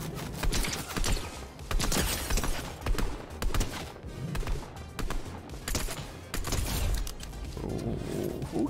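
Fortnite gunfire from an enemy hidden in a bush, with loud, continuous volleys of rapid shots and clattering bursts that barely pause, packed with overlapping game sound effects.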